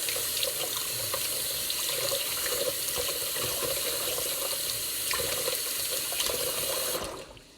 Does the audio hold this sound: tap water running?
yes